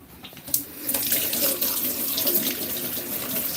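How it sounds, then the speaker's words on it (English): Water runs from a tap into a sink while something is rinsed, a steady close splashing rush that swells after the first half second and keeps flowing to the end. "I'm just going to rinse this under the tap so that I can reuse it at a later date if needs be."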